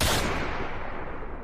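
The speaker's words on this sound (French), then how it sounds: "un soudain éclat de coups de feu a recouvert tous les autres sons" A sudden dense burst of gunfire rips out as a sound effect in a narrated war story set in the ruins of Chernobyl, loud and sharp at the start before trailing into a rumbling wash.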